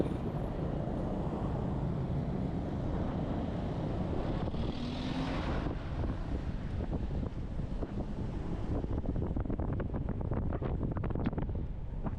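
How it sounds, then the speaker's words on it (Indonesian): Strong wind buffets the microphone while riding a motorbike, a loud continuous roaring rush with gusty fluctuations and faint engine rumble underneath. "Naik motor kok anginnya kenceng ya."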